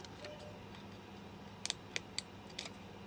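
Small cuts into a wooden piece for a model water tower produce a handful of crisp, faint snips and clicks, some doubled, scattered over a quiet background.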